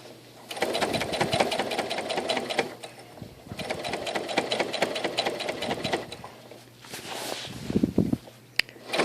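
A sewing machine stitches the underarm seam of an apron, running in fast rhythmic bursts with brief pauses between runs, followed by a few softer handling sounds and a sharp click near the end.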